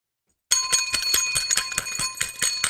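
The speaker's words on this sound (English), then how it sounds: "This bell's all jammed up, man. So it doesn't even ring the same way." A jammed bell is rung over and over in fast, evenly spaced strikes. Each ring is bright and metallic, and the rattling continues alone for nearly the whole stretch with no voices.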